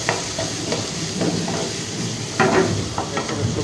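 Pre-cooked chicken and egg frying in a pan for chow mein, a steady close sizzle and hiss with occasional stirring scrapes and louder bursts of spattering.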